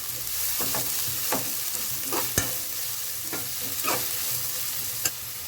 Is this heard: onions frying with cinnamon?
yes